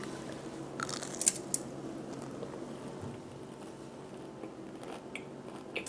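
Someone bites and chews a crunchy no-bake energy bite shaped like a cookie, making a few quiet crunches close up and softer chewing afterward over low background hiss.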